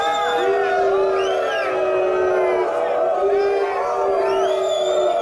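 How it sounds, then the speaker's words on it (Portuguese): At a workers' assembly, a large crowd boos and jeers, making loud, drawn-out rising and falling howls that stay continuous and close. "eu sugeriria deixar as vaias para o final"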